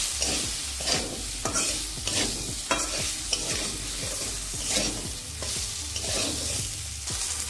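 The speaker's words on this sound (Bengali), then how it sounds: "আলুটাকে আমি 2 মিনিট ভেজে নিলাম।" Cut potatoes frying with salt and half a spoon of turmeric, a dense, loud continuous sizzle with rhythmic spatula stirs and scrapes throughout.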